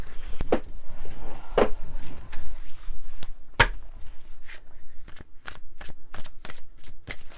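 A tarot deck being shuffled, with a run of crisp riffling bursts early on, then a quick series of sharp evenly spaced card snaps toward the end, close and fairly loud with no talk.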